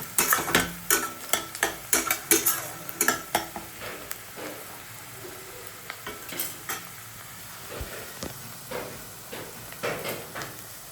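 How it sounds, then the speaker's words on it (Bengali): Onions fry in a pan for Hyderabadi green chicken as a utensil stirs them, producing a run of sharp scraping taps at first, then sparser scrapes over a soft sizzle. "মোটামুটি 3-4 মিনিট নাড়লে এটা রেড ব্রাউন টাইপের হয়ে যাবে।"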